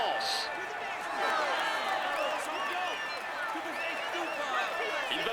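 A roadside crowd at the Tour de France applauds and cheers a rider in the polka-dot jersey, with dense, steady clapping and crowd noise that lasts throughout and stays fairly loud at middle distance.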